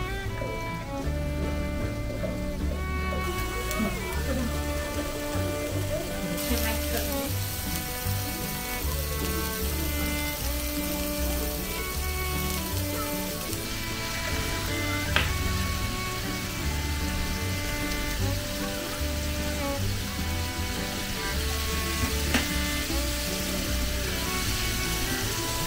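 Yakisoba noodles fry on a teppanyaki griddle at home with a steady crackling sizzle that runs the whole time, joined by occasional scraping clinks of a spatula against the metal.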